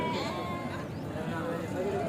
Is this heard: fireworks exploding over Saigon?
no